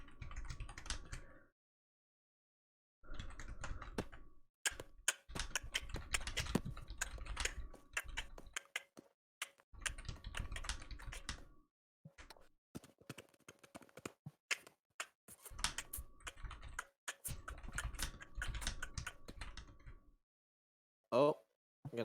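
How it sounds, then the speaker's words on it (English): Keys clatter on a computer keyboard in irregular bursts of rapid typing separated by short pauses, close and moderately quiet, with a few brief mouse-like clicks. "hold on I'm typing what I mean"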